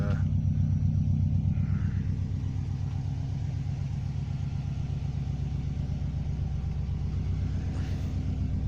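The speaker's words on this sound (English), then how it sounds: "After what, 3 or 4 minutes, it's settled to an idle" A Subaru Impreza Classic GC8 RB5 with a 2.0 turbo engine, not yet fully warm, idles with a steady low rumble and an even, pulsing beat that holds constant from start to finish.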